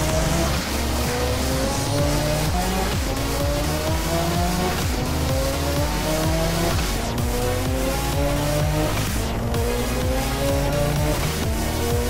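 A lowered car scraping along the ground in GTA San Andreas, heard as a loud, sustained engine roar with rising and falling pitch and tire squeal, unbroken throughout.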